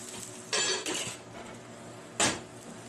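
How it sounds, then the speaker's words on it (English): A lid is set onto a pan of cooking eggs for a Denver sandwich, making a few close metallic clanks, two in quick succession and one more a moment later, over a quiet low cooking hum. "I'm going to put the lid on it just to let those eggs cook."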